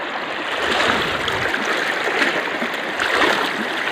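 Fast-flowing river water in Namdapha National Park, Arunachal Pradesh, rushes close by as someone wades across, a dense steady hiss and gurgle with slight swells and splashing, no voices.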